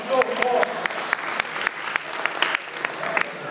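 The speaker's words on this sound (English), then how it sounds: "Give them a huge round of applause." Audience applause at a university orientation hypnotist show, steady clapping from a crowd sustained throughout at fairly close range.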